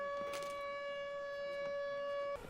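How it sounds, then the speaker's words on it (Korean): A steady siren wails in a film scene, one sustained tone with strong harmonics holding for about two seconds before cutting off abruptly, loud and alone without talk. "그러던 중 갑자기 사이렌이 울리기 시작하죠."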